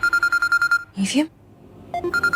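A phone rings with an incoming call, a rapid pulsed electronic ringtone that stops briefly while a voice speaks, then starts ringing again.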